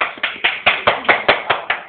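Nine sharp hand claps in a steady rhythm, close and loud, coming right after a sung performance, with no other sound around them.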